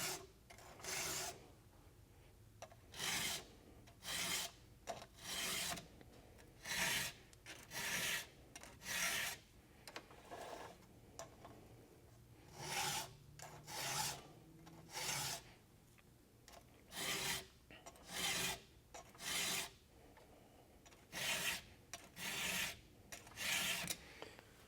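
A chainsaw chain is hand filed with a steel file in steady bursts of rasping strokes, each lasting about a second, repeated in rhythmic groups with short pauses between, close and fairly quiet.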